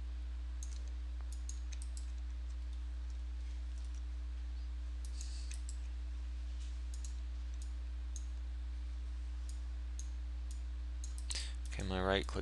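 Computer mouse clicks during 3D UV layout work, sparse sharp ticks scattered across a steady electrical hum, with a brief voice near the end.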